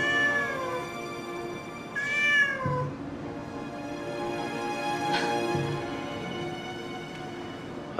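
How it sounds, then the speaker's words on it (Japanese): A neighbour's cat meows several times in a quiet indoor room, the calls near and fairly loud, rising and falling, with soft room noise between them. "还有一只猫给你占岗"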